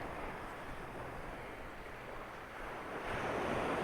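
Waves washing onto the sand at Tentsmuir and Kinshaldy beach in March, a soft continuous surf rush mixed with wind buffeting the microphone, swelling slightly near the end, with no talk.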